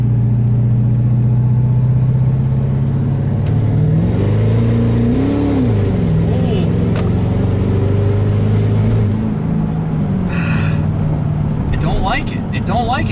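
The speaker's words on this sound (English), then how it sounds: "Okay, third gear boost. Hear the turbo, hear the turbo?" A straight-piped Ford 6.7 Powerstroke diesel with a big turbo pulls hard in third gear, its deep engine roar joined by a rising, whistling turbo spool. Someone talks over the loud, close sound.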